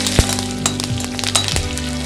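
Cumin seeds, green chillies, a dried red chilli and curry leaves fry in hot oil in a pan for jeera rice, making a loud continuous sizzle with a few sharp crackles and small clinks.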